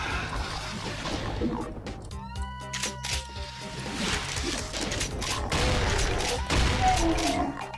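Gunfire in Brutal Doom: sharp game shots and impacts punctuate a dense mix of music and effects, with someone talking over the action.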